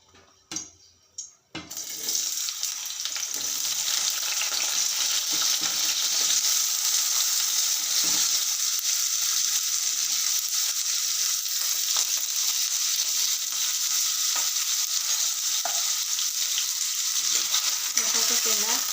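Potatoes hit hot oil in a pan for a Gujarati potato curry, and after a couple of quiet knocks a loud, dense, continuous sizzle fills the rest of the span, close and steady with faint stirring beneath and no talking.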